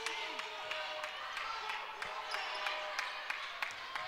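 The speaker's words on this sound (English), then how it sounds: "Crowd is starting to make some noise here inside Walsh Gym." Crowd noise inside Walsh Gym at a women's college basketball game, a broad murmur under steady rhythmic ball bounces on the court, with occasional louder squeaks and thumps.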